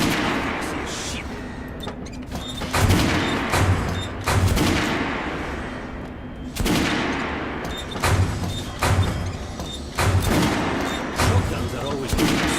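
Bursts of rapid automatic gunfire from a lightweight, fully automatic weapon that overheats, in the shooter game Metro Last Light Redux, come in several loud volleys of varying length with brief pauses between them.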